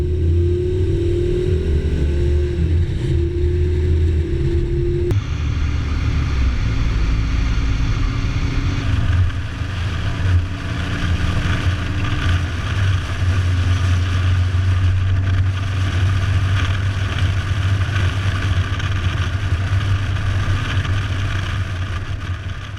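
Air-cooled Volkswagen engine in a 1970 Bug hot rod with a 1930s Ford dropped-axle front end, driving at Redlands Airport: a loud, steady, rumbling drone heard up close that shifts tone around five seconds in, then holds for the rest.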